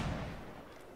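A single heavy boom of musket fire in a Revolutionary War-era multiplayer battle game, loud and close at onset, then decaying into a rumbling tail over about a second with no voices.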